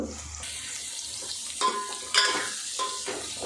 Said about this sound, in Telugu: పసుపు వేసిన మునక్కాయ బాగా ఆయిల్లో మగ్గాలండి